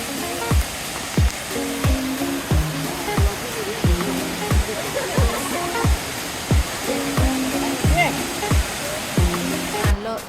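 A waterfall roars as a steady broadband rush, partly masked by rhythmic music with a regular thumping beat and voice-like tones layered on top.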